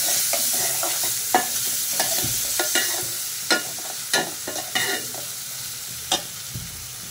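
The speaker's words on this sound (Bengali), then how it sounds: "দিয়ে একটু নাড়া দিয়ে দিব।" A small amount of fish stirred in a pan with ginger garlic paste, gentle sizzling broken by intermittent scraping strokes and taps of a spatula, close and quiet with no voices.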